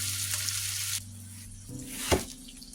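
Salmon searing in a pan, with a close, steady sizzle that drops in level partway through, then a sharp clack of a utensil and renewed crackling, no voices.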